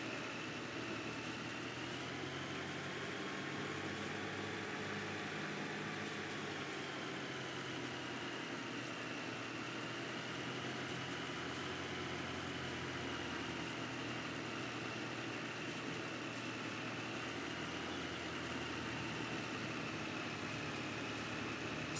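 A New Holland tractor idling in Farming Simulator 22, a steady low engine hum with a constant whine, quiet and unchanging throughout.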